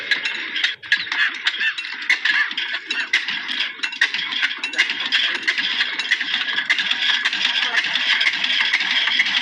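Old 1947 diesel engine being turned over and started with help from a motorcycle: a steady, dense mechanical rattle and clatter runs throughout, loud and close, with no talking.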